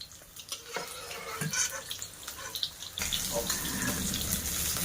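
Onion fritters (peyaji) fry in hot oil with a soft, continuous sizzle that grows fuller and louder partway through, along with a few light utensil clinks and a voice in the background.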